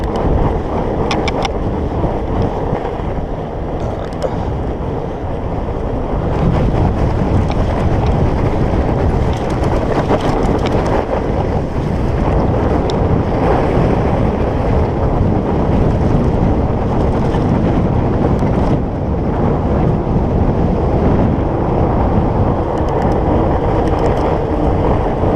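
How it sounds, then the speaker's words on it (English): Headwind buffeting the microphone on a Surly Moonlander fat bike riding through the countryside, a loud, continuous low rumble and roar that swells and gusts without letting up. "so we do have a headwind"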